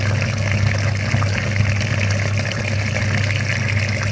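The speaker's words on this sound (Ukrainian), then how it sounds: "Це ще без хімії, просто звичайною водою виганяємо цей шмурдяк." Plain water gushes and churns steadily through a filter in the cooling system of a Chevrolet Lacetti / ZAZ Sens, driven by a humming pump, a continuous loud wash with no pauses.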